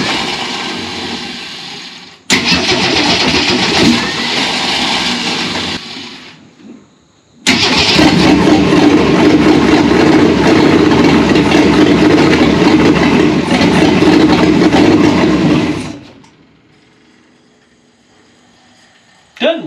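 An old Ford Econoline Travel Wagon engine, revived after more than 15 years, runs loud and rough through a wide open exhaust in two long bursts with a short gap, then cuts off to near silence.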